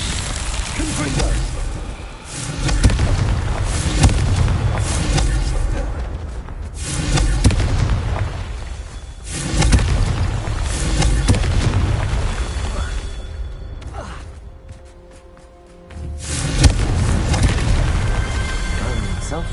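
Confringo blasting spells explode in a video game: a string of heavy, booming blasts, each followed by a rumbling decay, with a brief lull near the end before another loud burst.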